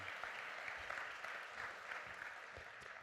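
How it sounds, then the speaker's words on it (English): An audience at the REFRESH2016 conference gives a round of applause to welcome Marko Kruustük, co-founder of Testlio, as he takes the stage; steady, dense clapping fills the whole stretch at a fairly soft level, with a sharper clap or two near the end. "I'd like to please have a round of applause for Marko Kruustük"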